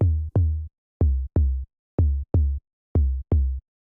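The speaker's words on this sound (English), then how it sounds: "Bass Monolite is a really low and punchy sine wave, which can also be used as a percussion type of bass." A tech house synth bass called Bass Monolite plays a low, punchy sine tone in short paired hits, four evenly spaced pairs of clean, isolated thumps with quick decays and silence between.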